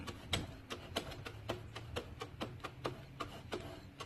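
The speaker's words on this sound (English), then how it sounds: "What you're hearing is this little shroud moving." Shroud on an old push mower engine rattling as the piston turns over, giving a quick, fairly even series of light metallic ticks and clicks, close and moderately quiet, with no talk.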